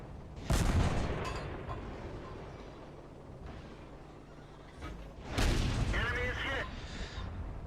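Two heavy tank cannon blasts from a Somua S-35 CA tank destroyer in the World of Tanks game, the first near one second in and the second a few seconds later, each a loud boom trailing into rumbling battle ambience.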